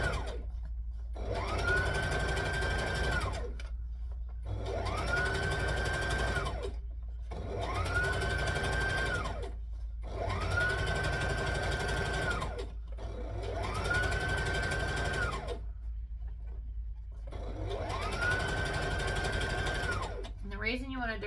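A home sewing machine stitches a seam on a McCall's M8083 garment in about six evenly spaced runs, each a steady whirring buzz that starts and stops with short pauses between.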